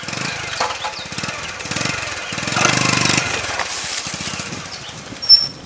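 A small motorcycle engine putters along carrying jerrycans of locally brewed banana beer on narrow rural roads in Buganda, a steady chugging motor that rises and falls in pitch at moderate distance, with a brief sharp squeak near the end.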